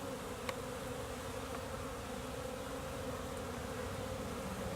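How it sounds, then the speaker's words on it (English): Honeybees buzz at a beehive entrance in late March, a dense, steady hum from many insects that continues without pause and with no voices. "Here's the bee activity here."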